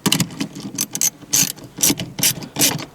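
The shift stop on a Subaru WRX manual transmission shifter is moved back and forth by hand, giving a series of sharp mechanical clicks and clacks in quick irregular bursts, close up with no talk.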